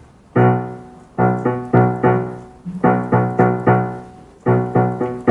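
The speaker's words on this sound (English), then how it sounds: "something pulsating in the orchestra" An orchestra plays a pulsating rhythm of repeated, loud sustained chords in short bursts, with brief gaps between groups of pulses.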